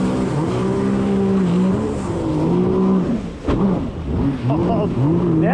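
A stock 2025 Yamaha JetBlaster Pro jet ski idling and revving on cold water, its engine note rising and falling in a wavering hum close to the rider, with a brief sharp knock partway through.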